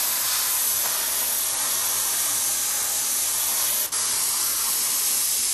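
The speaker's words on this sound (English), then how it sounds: "Just spray around it." An airbrush sprays paint around a skull and crossbones design on a T-shirt, giving a steady, close, continuous hiss with one brief break near the end.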